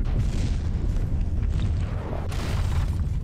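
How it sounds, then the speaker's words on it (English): Explosions in a space battle video game, a dense low rumble of booms and bursts running through the whole short stretch. "You can hear the occasional explosion."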